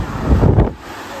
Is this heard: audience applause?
no